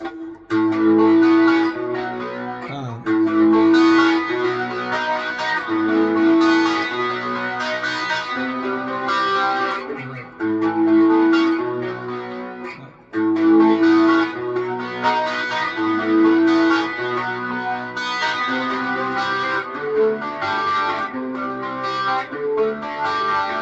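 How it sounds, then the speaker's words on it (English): Electric guitar drenched in heavy distortion plays steady chords and sustained notes, loud and continuous, with brief gaps between phrases. "it kicks on some distortion right here"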